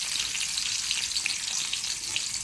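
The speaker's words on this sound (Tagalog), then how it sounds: "Isunod natin ang sibuyas. Pabunguhin din natin ng kunting minute" Onions frying in a pan with a steady, close hiss and crackle of sizzling oil, continuous throughout with no voices.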